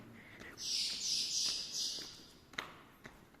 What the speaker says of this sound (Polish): Dziwne ptaki tutaj ćwierczą.